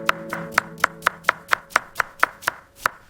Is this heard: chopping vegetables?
yes